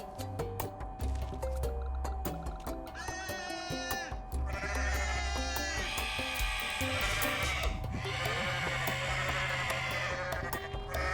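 Several bleats from a goat in the Goat Simulator video game at around three, five and eight seconds, over steady background music and clicking game sounds.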